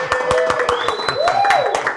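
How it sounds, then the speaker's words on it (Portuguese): Steady clapping and cheering from a crowd, with a whistle sliding up and down over the applause. "salve de palmas para esse meu amigo David Balotin e o meu amigo Lobato"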